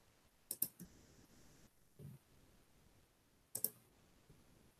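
Two crisp computer mouse clicks, each a quick double click, spaced about three seconds apart in a quiet room with no talk.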